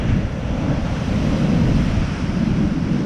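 Big, rough sea waves surge and crash continuously along a stormy Blackpool seafront with stepped sea defences, a loud steady roar mixed with heavy wind buffeting the microphone, no voices.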